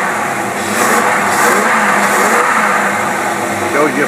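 A car engine fed by Carter AFB dual quad 500 cfm carburetors revs up and holds a loud, rough, steady roar up close throughout, with a voice faintly present beneath it.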